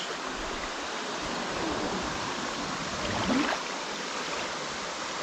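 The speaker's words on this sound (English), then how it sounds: "Come some more rapids, but hopefully I don't get beached" Rushing water of river rapids on Pequea Creek heard while tubing, a steady close broadband wash of flowing water with a slight swell partway through and no talk.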